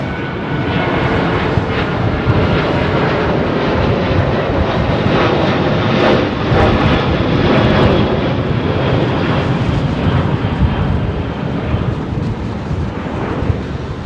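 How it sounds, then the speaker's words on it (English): Former Virgin Airbus A340-600 jets at London Heathrow give a loud, sustained jet-engine roar with rumbling low end, steady and dominant for the whole stretch with no voices over it. "A340-600 ex-Virgin jets"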